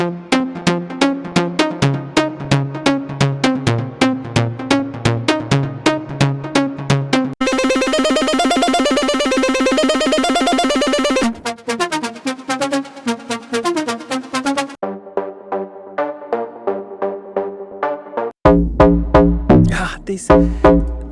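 A rapid run of contrasting Serum 2 techno synthesizer presets: punchy plucked stabs, a dense buzzing block, sparse bright hits and a booming low bass tone, all loud and up close.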